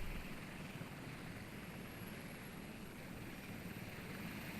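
A helicopter in a video game runs with a steady, dense rotor and engine roar that stays constant throughout. It is faint and even, with no talking.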